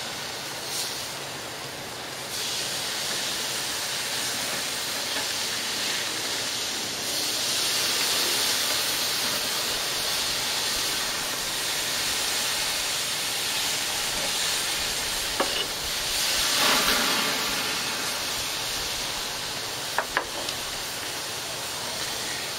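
Flat iron steaks sizzle on an outdoor grill just after being flipped, a steady broadband hiss running the whole time with a few brief sharper pops near the end, close and fairly loud with no talking.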